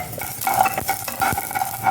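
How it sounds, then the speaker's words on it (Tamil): Mustard seeds and fenugreek frying in oil for homemade tomato pickle: a constant near sizzle broken by repeated soft scrapes and clinks of a spoon in the pan, with no voices. "இப்போ கடுகு, வெந்தயம் இதை போட்டு ஒரு பொன் கலரில் வறுத்துடலாம்."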